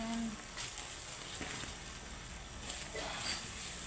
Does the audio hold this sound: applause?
no